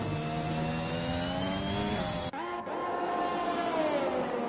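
A Formula 1 car on a flying lap with DRS open, on medium compound tyres, gives a loud, steady high-pitched engine whine that climbs in pitch, briefly dips at a gear change, then keeps pulling, with no voices.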